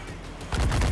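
Ship cannons firing in Assassin's Creed 4 during a naval battle, a rumbling volley that starts about halfway through and builds into a heavy, booming barrage with low, thudding blasts.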